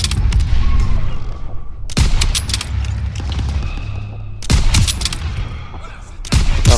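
Machine gun fire in the World War II shooter game Call of Duty WW2 comes as loud, dense bursts of rapid shots and booms, broken by brief gaps, with other battle noise underneath.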